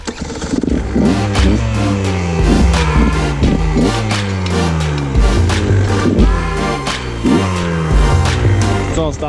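A stock KTM 150 XC-W two-stroke dirt bike warming up, its engine loud and close with repeated rising and falling revs and a rattly, buzzing idle in between.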